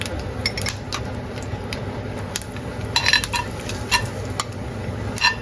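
Gram flour being stirred into potato curry in a pan on the stove, with light scraping and sharp metallic clinks of a spoon against the pan, repeating irregularly at moderate loudness.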